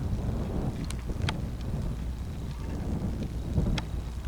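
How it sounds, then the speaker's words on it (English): Breezy wind gusts across open desert high ground above Lake Mojave, buffeting the microphone in a steady low rumble with a few brief sharp knocks, and no one speaking. "A little breezy today."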